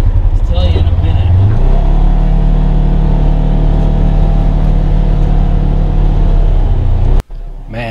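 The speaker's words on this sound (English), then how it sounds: "listening to that engine rev" An off-road vehicle engine on a trail ride runs loud and close, its pitch rising as it revs and holding a rough, steady drone before cutting off sharply near the end, with people talking over it.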